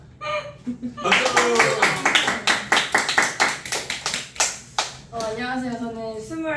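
A small gathering of church youth claps together in a room, a quick burst of a dozen or so sharp claps, then a voice begins speaking over the tail end.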